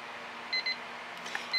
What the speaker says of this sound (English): that's the timer telling me I've got 1 minute left